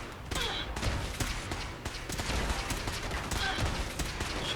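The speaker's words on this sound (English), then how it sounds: "She is so inaccurate with that Tesla rifle" A Tesla rifle fires in Fallout 4 in a rapid volley of crackling shots that keeps going through the whole clip. Shots come at close and middle distance over a steady din of game noise.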